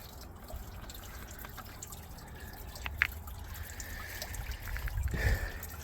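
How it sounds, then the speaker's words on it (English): Hot coolant drains from a radiator hose on a 1996 Jeep Cherokee during a coolant change, heard as faint, irregular drips and a light trickle that grows slightly toward the end. "got it halfway out so that it leaks out controllably since it's so hot"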